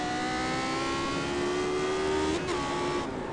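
Race car engine in the iRacing driving simulator, a sustained loud whine that climbs steadily in pitch, shifts briefly, then continues under a constant drone of road and wind noise.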